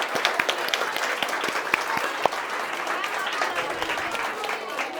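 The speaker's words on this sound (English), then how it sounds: "huge round of applause for the little ones" Audience at a preschool annual day show applauds the little performers, steady crowd clapping with a few sharper individual claps standing out, fairly faint and heard from a distance, with voices murmuring beneath.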